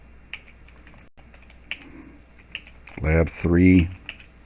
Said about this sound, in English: So you can type your name,